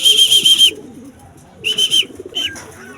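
A racing pigeon arriving home during a 141 km race from Carranglan, Nueva Ecija, giving repeated bird calls in two clear bursts, fairly close, over low background noise and faint rustling, with no talk.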